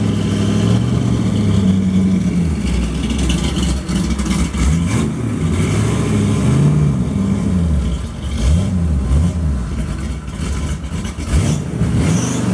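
A hand-built 1932 Ford roadster pickup drives off, its engine rumbling loud and close with rising and falling revs as it pulls away, the tone shifting continuously under steady road noise.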